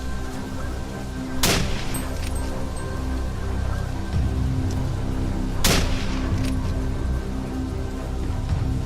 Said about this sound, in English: 3 loud gunshots rang out, ending the prey's escape once and for all.